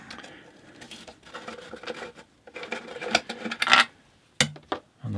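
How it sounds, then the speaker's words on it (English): Rusty wood screws being backed out of an extension lead's MK panel socket, giving faint scraping, creaking turns and small metallic clicks in irregular bursts, with a few sharper taps near the end. "Now I think we'll start just by undoing these screws here"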